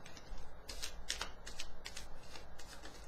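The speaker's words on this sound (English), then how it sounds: "let me shuffle" Tarot cards being shuffled by hand: quick, crisp riffling and slapping of the deck in several short bursts, close and fairly quiet, with no talking over it.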